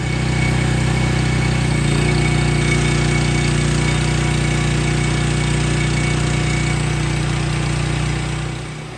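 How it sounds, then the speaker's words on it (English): Motor running at a dumpster and landscaping job site in Cave Creek, Arizona, a loud steady mechanical drone with harsh vibrating rattle that holds constant throughout before easing off at the very end, with no talk. "I actually gotta start the motor first to show you"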